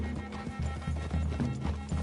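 Horse hooves clip-clop steadily in Red Dead Redemption 2, a close, rhythmic walking gait on dirt with a brief whinny, heard alone without speech.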